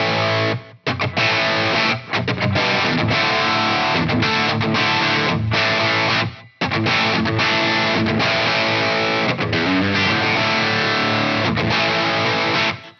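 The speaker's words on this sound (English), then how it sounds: "Let's go to some overdrive." Heavily distorted electric guitar, a Fender 75th Anniversary Ultra II Telecaster on its back humbucker through a modded Marshall-style dirt channel, plays loud overdriven riffs and chords continuously, with brief pauses between phrases.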